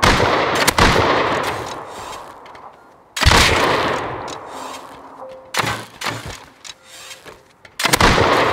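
Gunfire in the video game Rust: several loud, close shots and bursts that boom and decay over a few seconds each, spaced by quieter gaps with faint tones.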